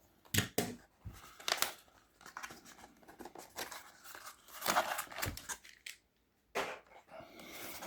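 Scissors cut through a cardboard toy box for a 1:43 Hot Wheels Chevrolet Monte Carlo model, several close, irregular snips and crunches with short pauses between them.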